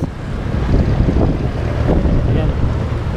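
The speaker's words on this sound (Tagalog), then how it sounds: "dahil sa lakas ng hangin at saka ulan" Strong wind roars and buffets the microphone continuously along a seaside boulevard, with a dense rushing wash of heavy driving rain mixed in.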